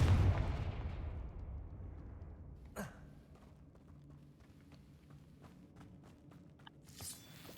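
A Confringo blasting-spell explosion in a Harry Potter video game bursts loudly at the start and rumbles away, followed by a sharp crack and quieter scattered footsteps and thuds.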